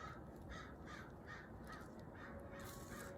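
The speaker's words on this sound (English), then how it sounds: "Those are the crows." Crows caw in a quick, regular series of calls, about a dozen over a few seconds, heard at moderate distance above a constant background hiss.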